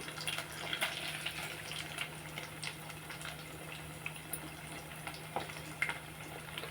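Fish pieces fry in a pan, a steady soft sizzle and crackle held at low level throughout, with a few faint clicks and knocks of utensils on top and no speech.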